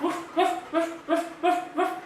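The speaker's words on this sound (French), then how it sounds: "parce qu'il aboie, elle aboie" A dog barks repeatedly nearby, six evenly spaced loud barks in steady rhythm with no talking.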